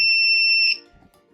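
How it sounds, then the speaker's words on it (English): Piezo buzzer powered by a 9-volt battery gives a shrill, steady, high-pitched tone for about two thirds of a second, then cuts off into faint background noise. "This confirms that the buzzer is working when connected to this 9-volt battery."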